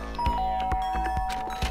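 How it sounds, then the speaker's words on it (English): A short electronic doorbell chime in the video game Danganronpa sounds, a bright sustained tone over a few soft thunks, brief and close. "I guess I should press the doorbell."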